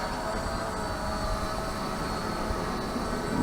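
Steady buzzing whine of a hovering ZLRC SG906 Pro drone, unbroken at an even level throughout, with wind rumble underneath.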